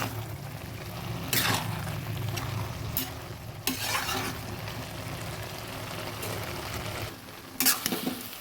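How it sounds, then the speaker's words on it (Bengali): Spoon stirring cumin powder into simmering ash gourd in a pan for a hilsa fish-head curry, soft continuous sizzle under several louder scraping strokes, close and fairly quiet. "দিয়ে দিচ্ছি কিছুটা জিরে পাউডার ভালোভাবে নেড়ে দিচ্ছি"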